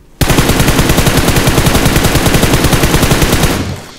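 Rapid automatic gunfire in a video game, a loud sustained burst of evenly spaced shots lasting over three seconds before cutting off, with no talk over it.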